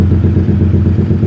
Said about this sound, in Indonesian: kita gas-gas dulu. Tapi gasnya sedikit-sedikit aja.